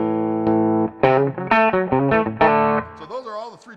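Distorted electric guitar played through its bridge pickup, a short run of sustained notes and chords, ending with a wavering vibrato bend, loud and close.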